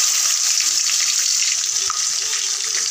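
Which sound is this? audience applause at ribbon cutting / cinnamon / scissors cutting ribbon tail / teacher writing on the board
cinnamon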